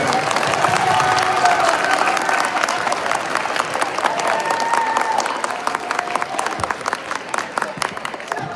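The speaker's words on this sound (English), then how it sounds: "So let's give her one more round of applause." A middle school assembly audience claps steadily in a dense, sustained round of applause that tapers into scattered claps near the end, with some voices mixed in.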